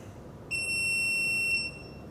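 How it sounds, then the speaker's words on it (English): A car's blind spot monitor gives one steady, high electronic beep lasting just over a second, clear above a low cabin hum. "That beep is my blind spot monitor."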